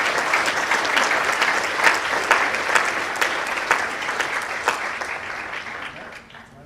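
A conference audience claps warmly for keynote speaker Bruce Sterling, a full, dense round of applause that holds steady for several seconds before thinning out at the end.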